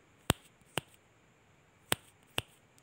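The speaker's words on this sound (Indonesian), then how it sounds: "Kemudian menjentikkan jari," Finger snapping: four crisp, close snaps in two pairs, separated by a short pause, bright and sharp against a quiet background with no talking.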